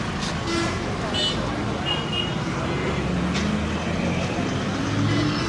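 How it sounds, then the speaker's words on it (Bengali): Buses come in from the university direction along a Rajshahi road during a student protest, with short horn toots over a dense rumble of road traffic and the murmur of a crowd. "বৃহত্তরের দিক থেকে, ইউনিভার্সিটির দিক থেকে বাসগুলো আসছে।"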